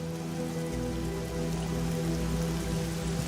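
Steady rain falling at a desert crash site, a continuous dense patter with a low rumbling undertone that grows a little heavier partway through, with no voices.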